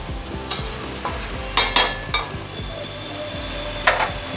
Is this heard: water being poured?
no